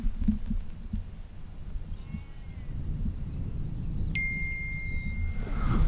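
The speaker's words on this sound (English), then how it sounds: "And my phone bings right on cue." A single bright electronic phone ding rings out close by at a wild campsite on the Black Mountain, its tone sustaining briefly over a low rumble of outdoor ambience.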